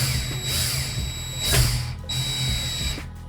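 Power drill set to a low setting whirring in short bursts while screws are driven during a PC build, with steady mid-level motor whine broken by brief pauses.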